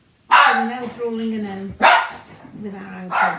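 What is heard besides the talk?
dog barking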